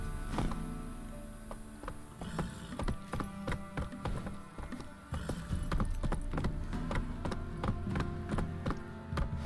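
Roach, the horse from Witcher 3, gallops steadily with rapid clip-clop hoofbeats close up, layered over a tonal game soundtrack and faint tack jingles, with no voices.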